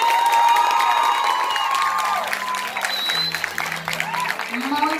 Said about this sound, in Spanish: les pido un fuerte aplauso para retirarnos